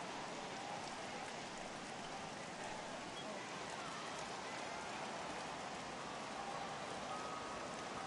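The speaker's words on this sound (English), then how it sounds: "Well, that rain is really coming down right now." Heavy rain pours down in a baseball video game during a Pirates at Cubs matchup, a steady, dense hiss of drops that holds constant throughout and sounds fairly faint and distant.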